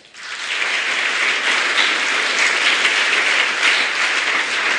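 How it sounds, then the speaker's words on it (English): An audience at a scholarship ceremony breaks into applause, a dense, even roar of clapping that swells in quickly and holds steady at full loudness. "Please give yourself a clap."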